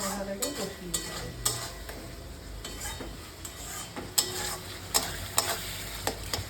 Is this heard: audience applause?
no